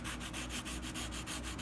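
Sandpaper scrubs by hand over a Chevy SS trim piece being prepared for blackout, in quick, even back-and-forth strokes that are close, steady and dry.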